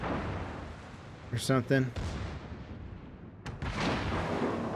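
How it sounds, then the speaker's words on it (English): World of Warships naval game: the Jean Bart battleship's main guns fire as one sharp, loud salvo blast late in the clip, followed by a rolling rumble, with someone talking briefly before it. "Okay, so I think I want to shoot, like, kind of right below the turrets, right?"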